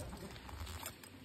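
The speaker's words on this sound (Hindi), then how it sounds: "और ये बारिश हो ही गई" Rain falls during the monsoon, making a faint, steady patter with soft scattered drips and no voices.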